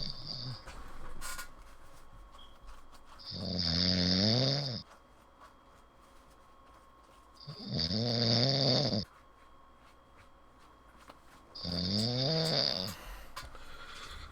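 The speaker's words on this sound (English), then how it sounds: "Morph the snore sounds." Slow, rhythmic snoring comes in three long rasping breaths spaced several seconds apart, each with a raspy whistling edge, over a quiet background hiss.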